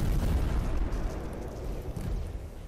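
Missiles explode during a giant robot fight in the Project Alice video game, producing a dense, continuous low rumble of overlapping booms. It is loud and heavy throughout, with no speech.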